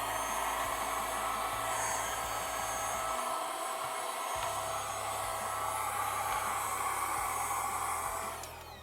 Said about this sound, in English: Yeah, I'm sure the battery acid will be perfectly fine for my vacuum cleaner there.